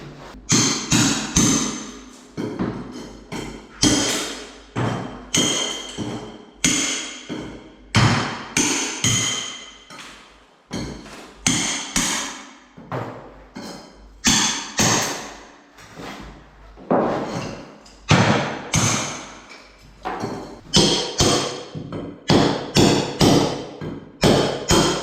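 Repeated hammering on a floor during home renovation, struck with a makeshift tool in place of an ordinary hammer, gives sharp, loud blows in irregular bursts of several quick strikes with short pauses between them.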